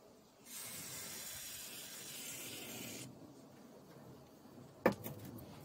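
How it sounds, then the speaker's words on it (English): Grease aerosol sprayed onto boat hinges, a steady close hiss lasting about two and a half seconds, followed by a quiet pause and a sharp click. "take your grease and with the accurate spray, spray along the back face, making sure you spray down the cracks"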